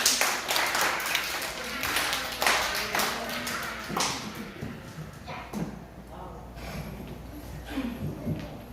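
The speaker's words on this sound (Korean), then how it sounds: "우리 총무 선생님 나오실 때 큰 박수로 환영해 주세요" Children at a Sunday church service for a kids' department clap to welcome a teacher coming forward, an uneven patter of claps with an adult voice speaking over it part of the time.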